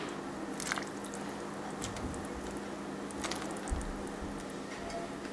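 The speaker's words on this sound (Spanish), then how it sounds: "Voy a agregar aquí el pollo." Chicken is added to a pot of soup with zucchini and shell pasta, making soft wet squishing and dripping sounds over a low steady background, with a few brief squelches at close range.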